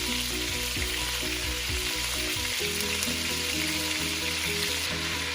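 Beef seasoned with salt and pepper browns in bacon fat in a pan, a loud, steady sizzle and crackle of frying meat close up, with a low hum underneath and no voices.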